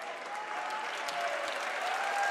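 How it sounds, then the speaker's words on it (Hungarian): Steady crowd applause in an arena for basketball player Kovács during an Atomerőmű SE versus Alba Fehérvár game, sustained and even throughout with a faint whistle tone above it. "Kovács nagy tapsot kap."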